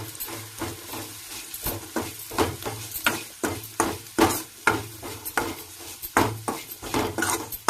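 Spices frying in a pan with ginger-garlic paste, salt, turmeric and chili powder, stirred with repeated scraping and clinking of a utensil against the pan over a steady low hum, close and fairly loud.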